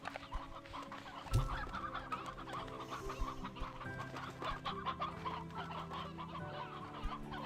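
Roosters and hens in the farming video game Slime Rancher 2 cluck repeatedly at a moderate level over a steady game ambience, with one sharper thump early on and no talking.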